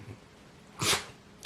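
Pepper, a pet dog, lets out a single sharp, close sneeze after a moment of quiet breathing.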